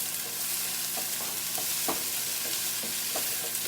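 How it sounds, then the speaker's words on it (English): Vegetables stir-fried in a little oil over high heat in a pan make a steady, close hiss of sizzling, with soft scraping stirs of the spatula breaking through every second or so. "You can hear the sizzling sound,"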